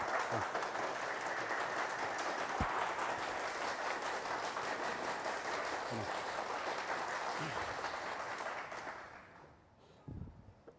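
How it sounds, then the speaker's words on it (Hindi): Sustained applause welcoming a speaker at a VIP party digital rally, a dense, steady roll of clapping lasting around nine seconds before fading away, fairly faint overall. "आप लोगों से आग्रह है कि जोरदार तालियों के साथ उनका स्वागत करें।"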